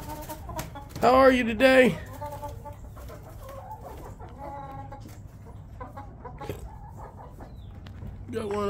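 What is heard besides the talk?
chickens clucking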